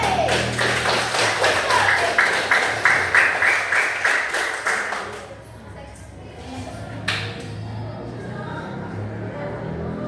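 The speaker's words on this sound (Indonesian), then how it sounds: "tepuk tangan untuk kelompok 3" Classmates applaud a student group after their math presentation in a school classroom, a steady run of brisk hand claps for about five seconds that then stops, leaving quiet room noise and a single sharp knock.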